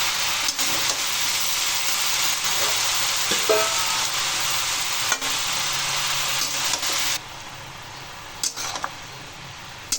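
Bottle gourd greens sizzle in a pan while being stirred, with a steady hiss broken by spatula scrapes and clicks, then the sizzle drops quieter near the end.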